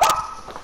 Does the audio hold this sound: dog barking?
yes